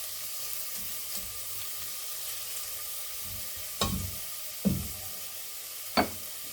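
Vegetables with carrot sizzle in a pan with a constant hiss, broken by three louder scraping stirs toward the end.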